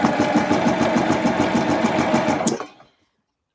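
A sewing machine runs a steady rapid stitch while understitching a hood facing to its lining, loud and close, then winds down and stops after a couple of seconds, leaving silence.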